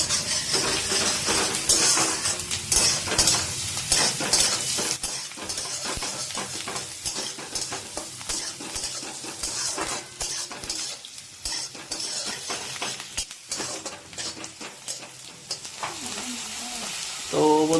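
Pasta frying and being stirred in a pan for an Indian-style recipe, a steady close sizzle with repeated utensil scrapes and clinks throughout, no talking.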